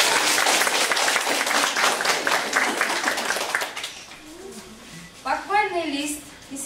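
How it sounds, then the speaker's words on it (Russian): Parents and children at a primary school graduation ceremony applaud a pupil receiving a certificate. Loud clapping fills the first few seconds, then fades as a voice begins speaking. "Всех хлопаем!"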